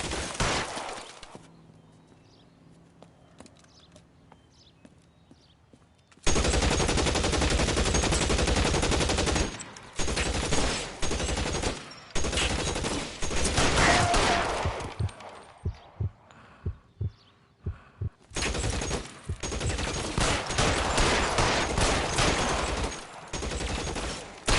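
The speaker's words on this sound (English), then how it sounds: "Shots fired in office." Gunfire erupts in a 1940s Los Angeles crime game, L.A. Noire, with loud dense bursts of shots and rapid volleys recurring after a quiet opening, separated by brief lulls.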